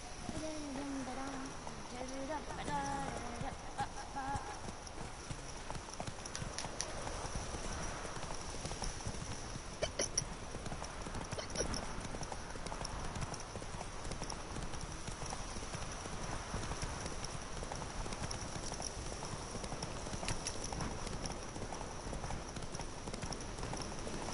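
Hooves of the horse Roach clip-clop steadily in The Witcher video game, an even rhythmic trot of many hoofbeats at moderate volume over ambient game background, with a brief whinny-like sound near the start.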